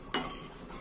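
Makhana fox nuts hit hot oil in a pan with a sudden hissing sizzle that holds steady and close, carrying a faint scrape of stirring through it.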